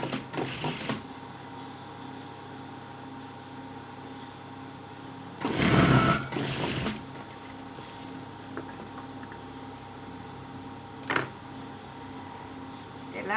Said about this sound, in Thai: พับลงมาแล้วก็เย็บได้เลยนะคะ